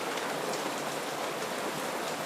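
Steady rain falls on surfaces as a dense, even hiss with no breaks, close and fairly loud, and no voices are heard.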